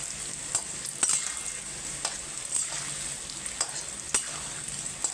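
Potatoes fry in a pan with Kashmiri chili powder, giving a steady soft sizzle with occasional sharper clicks and spatula scrapes as they are stirred, close and moderately quiet with no talking.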